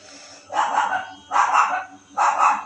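A dog barks in three loud, evenly spaced bursts, each roughly half a second long, heard close by with no talk over it.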